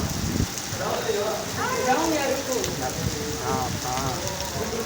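Heavy rain pours down during a thunderstorm in Lahore, a steady dense hiss filling the whole stretch, with people talking over it close by.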